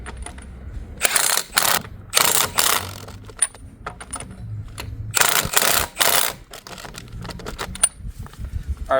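A ratchet tightens wheel hub bolts on a Nissan Pathfinder during a rear wheel hub replacement, sounding as several close, loud bursts of rapid clicking separated by short pauses, with faint metallic clinks between them.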